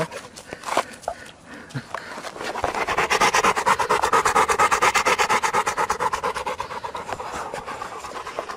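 A dog pants rapidly and steadily up close after a four-kilometre walk, the rhythmic breaths growing louder and continuing without pause.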